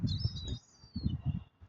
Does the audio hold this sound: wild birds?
yes